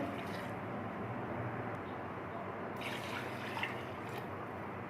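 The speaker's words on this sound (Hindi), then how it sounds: "फ्लेम को हमने ऑन किया और मैं इसमें पानी डालूँगी" Water being poured into a cooking pot of bone-in beef on a lit stove for beef pulao, a steady close trickle and splash over a broad hiss, with a brief brighter splashing stretch near the end.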